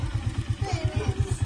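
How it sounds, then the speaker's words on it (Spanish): A motorcycle sits outside a house with its engine idling in a quick, even, throbbing beat, moderately close and steady, while a faint voice is heard over it. "Y ahí está la moto."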